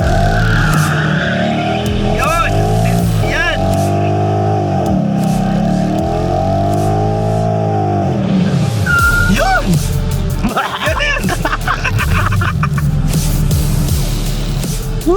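A Ford Mustang 5.0 engine roars and revs hard while tires squeal and screech in long drifting slides, loud and close, with shouting voices mixed in.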